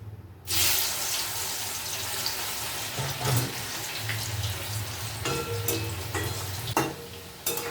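Raw plantain slices frying in hot oil in a wok, a sudden burst of sizzling that settles into a steady bubbling crackle with a few louder spatters and clinks, close up and without speech.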